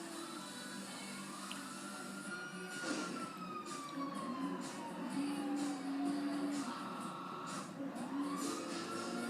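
Police sirens wail in rising and falling sweeps during a racing video game with Ferrari, Lamborghini and Porsche cars, steady and moderately loud over the game's engine and music bed.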